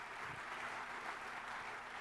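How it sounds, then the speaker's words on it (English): Steady, dense applause from a conference audience, even and sustained throughout without clear individual claps standing out. "So quick round of applause for Michael."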